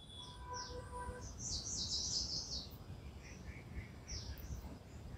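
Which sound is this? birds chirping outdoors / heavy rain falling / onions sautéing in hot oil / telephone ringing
birds chirping outdoors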